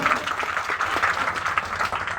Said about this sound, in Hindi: ताली से स्वागत कीजिए बाबा को।